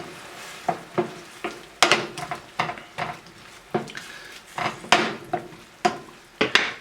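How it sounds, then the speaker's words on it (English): Spoon stirring Marsala wine sauce with thyme, salt and pepper in a pan, a string of close scraping knocks against the pan over a faint sizzle, irregular but steady throughout. "Stir this all up."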